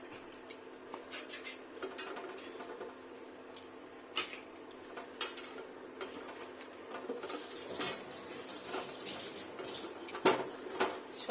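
Eggs being mixed in a bowl with turmeric powder, salt and gram flour, giving soft repeated clinks and scraping of utensil against the dish at close range, with a steady faint background hum.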